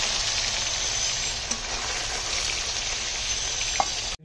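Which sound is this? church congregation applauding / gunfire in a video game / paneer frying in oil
paneer frying in oil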